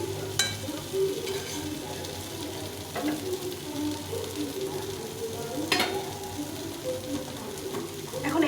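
Water goes into a sizzling Bengali snakehead fish curry masala in a pan, bringing a loud continuous sizzle and bubbling, with occasional sharp clinks of a utensil stirring.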